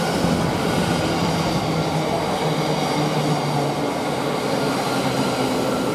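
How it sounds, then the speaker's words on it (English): A Thameslink Class 700 train runs through Cambridge North station with a loud, steady rumble of wheels on rail, a continuous close roar with faint clickety-clack and brief tonal squeals throughout. "Now we've got a late coming, which is the 12:08 from London King's Cross towards Ely."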